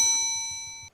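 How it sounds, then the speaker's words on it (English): A small bell rings once with a bright, sustained ding that fades over about a second, then stops abruptly, with a faint knock at the end. "I dropped my bell"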